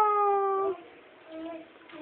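A voice gives a drawn-out, tonal meow-like cry imitating a cat, then trails off into quieter murmuring.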